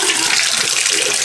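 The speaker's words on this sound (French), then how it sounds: "J'attends que l'eau arrive." Steady broadband rush of water running from a shower tap in a bathroom in Dubai, constant and fairly loud, with no voices over it.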